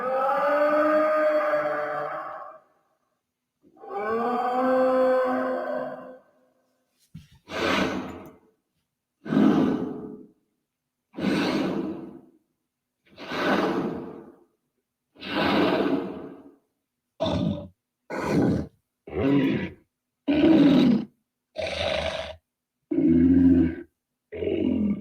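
An apatosaurus dinosaur gives distant, elephant-like screams: a series of about fourteen loud, wailing calls, first two long drawn-out cries followed by shorter repeated bellows with brief gaps, no talk over them.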